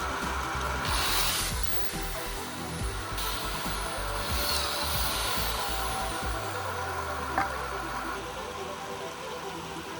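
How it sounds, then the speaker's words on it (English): A 650-watt electric drill whirs and grinds close by in bursts, with a steady mechanical hum running under it. "this 650-watt drill."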